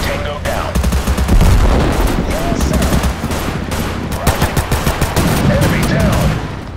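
Rapid bursts of automatic gunfire in the military shooter Total Conflict: Resistance, dense crackling volleys packed closely together, loud and continuous with faint voices underneath.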